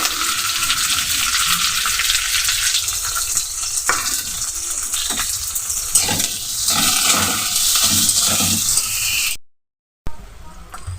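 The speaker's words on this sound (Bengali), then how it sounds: "আমি রসুনটা পেঁয়াজটা একসঙ্গে ফ্রাই করছি একটু ভেজে নিচ্ছি" Garlic and onion fry together in a pan, giving a loud continuous sizzle with scraping stirs and spatula knocks, then a brief break of silence before the frying resumes near the end.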